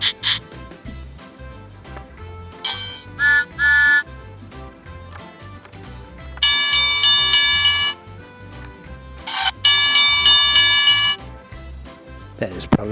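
A battery-powered Thomas and Friends Sodor signal house toy plays electronic beeps and bell-like chime bursts in several separate bursts, with longer ringing tones partway through and brief talking in the background.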